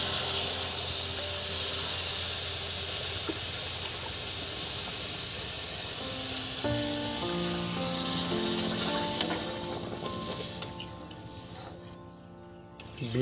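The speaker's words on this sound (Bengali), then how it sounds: "এবার এর মধ্যে ঠান্ডা জল দিয়ে দিচ্ছি।" Cold water goes into a hot pan of rice-free vegetable khichdi, a steady loud hiss and sizzle that thins and fades toward the end, with no talk.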